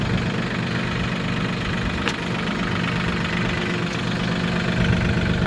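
A tractor engine in low gear labors while stuck in Texas mud, a steady loud low rumble that holds nearly constant, close by, with no talk.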